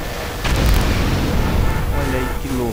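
A vehicle blows up in GTA San Andreas, with the explosion sound taken from a GTA V audio mod. One heavy booming blast hits near the start and then rumbles and crackles down into a longer noisy tail.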